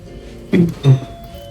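Doorbell chime in the video game Spider-Man: Miles Morales, two short tonal dings in quick succession, fairly loud and close, with no talk over them.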